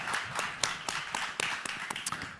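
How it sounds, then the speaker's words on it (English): An audience at a panel event applauds the panelists, giving a short burst of scattered, uneven hand claps close by, with no voices over it. "I'd ask you all to give a round of applause, please, to our panelists"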